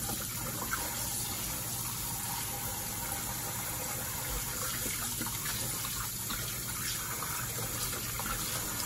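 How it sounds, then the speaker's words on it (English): Cold tap water runs steadily into a sink as raw chicken is washed beneath it, a continuous broadband gush with no talking. "make sure you're washing your chicken with cold water"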